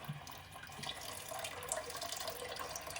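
Water pours steadily in a continuous splashing trickle, close and fairly quiet, with no talking.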